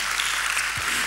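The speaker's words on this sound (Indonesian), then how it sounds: "Tepuk tangan." Applause from a church congregation during a sermon, a dense steady wash of clapping filling the brief moment without speech.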